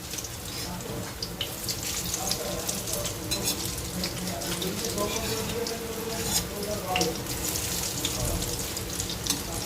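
Onion fritters (piyaji) fry in hot oil, a steady bubbling sizzle with soft taps and scrapes as pieces are flipped one by one, with faint talking underneath.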